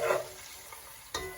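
Ginger, cumin seeds and whole spices fry on high heat in a pot for mutton akhni, a faint close sizzle with a couple of brief stirring scrapes.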